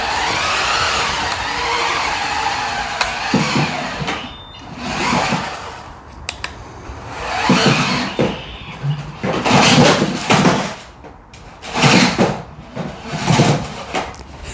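A WPL D14 Suzuki Carry RC kei truck with a live rear axle drives in repeated bursts. Its small electric motor whirs and its tires scrabble, with brief pauses between runs.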